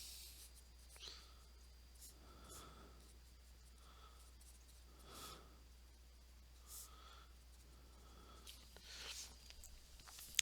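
Pen or pencil writing out a chemistry equation for an acetic acid equilibrium problem, a quiet scratching in short repeated strokes over a steady low hum, with no talking.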